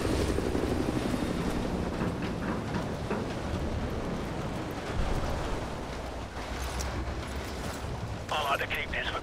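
A helicopter in the Call of Duty Modern Warfare Remastered campaign gives off a heavy, continuous low rotor rumble with loud bursts of gunfire over it, and a voice speaks briefly near the end.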